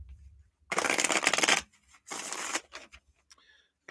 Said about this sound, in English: Give these a couple shuffles and one more.